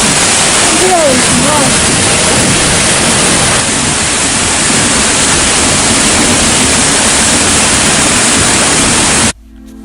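Loud, continuous roar of the Seljalandsfoss waterfall in Iceland, a dense rushing wash of water that fills the whole stretch before cutting off abruptly near the end.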